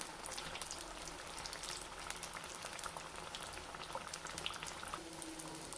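Onion slices dipped in bajji batter fry in hot oil, giving a dense, steady bubbling crackle that stays even and fairly quiet the whole time.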